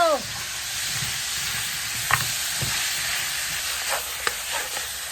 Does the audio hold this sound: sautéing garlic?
yes